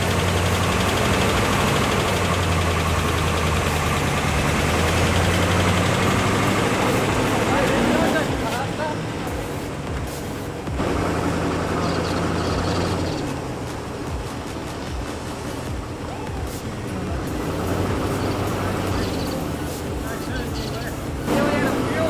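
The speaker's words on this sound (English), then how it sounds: "we're gonna put a little bit of petrol down there and drive it to a spot where it's no longer in the way" A 1981 Rover SD1 engine runs and drives, a steady low rumble that stays loud throughout, shifting in tone around the middle as it moves along, with talk over it.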